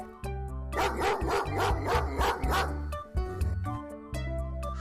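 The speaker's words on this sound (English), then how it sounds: "D for dog." A dog barks in a quick series of sharp yaps over upbeat background music, followed by the music carrying on alone.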